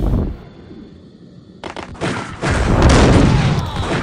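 Max Payne video game gunfire erupts in dense, booming bursts after a quieter stretch, growing louder and more continuous toward the end.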